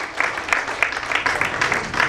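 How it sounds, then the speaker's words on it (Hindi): A seated audience at a book release gives a brief burst of clapping with scattered individual claps standing out over a steady patter. "एक बार पूरा सदन हाथ उठाकर तालियां बजाकर इन पलों का साक्षी बने"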